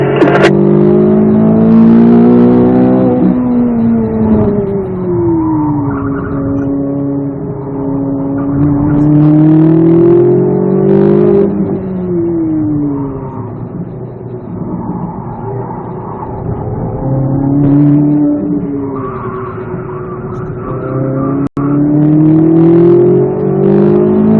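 Corvette Z06 on a race track, the engine loud and close as it pulls through rising and falling revs, steady throttle swells with a brief sharp click near the end.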